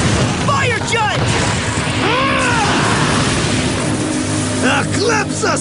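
Drago's Fire Judge attack in the Bakugan Battle Brawlers cartoon, a loud roaring blast that sustains throughout with swooping, whooshing tones rising and falling over it, and voices shouting partly over the roar.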